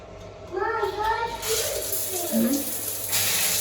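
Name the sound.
water running in hotel shower cabin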